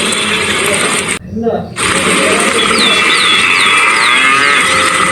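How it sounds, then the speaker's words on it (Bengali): Cartoon cows in an outdoor cowshed bellow loudly and abnormally in drawn-out, wavering calls that fill the scene, cutting out briefly before continuing over a dense, noisy background. "বাইরের গোয়ালে সব গরু হঠাৎ অস্বাভাবিকভাবে চেঁচাতে শুরু করলো।"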